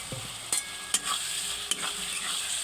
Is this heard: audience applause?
no